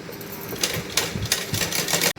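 A sewing machine stitches the joint of a salwar belt in short, close, rapid rattling bursts with brief uneven pauses, then stops abruptly.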